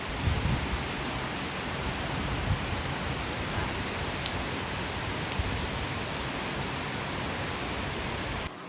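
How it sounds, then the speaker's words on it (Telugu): Dense, steady downpour of heavy rain hissing continuously, close and loud, with no voices. "ఈరోజు ఉదయం నుంచి వర్షం ఆగకుండా పడుతూనే ఉందండి"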